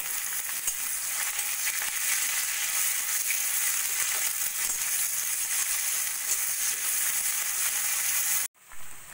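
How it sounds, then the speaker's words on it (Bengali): Thinly sliced medium onion frying in oil in a wok with cardamom, cinnamon, cloves and bay leaves, a steady close sizzle and crackle throughout that cuts off abruptly near the end. "পেঁয়াজ হালকা সোনালি করে ভাজা হয়ে গেছে"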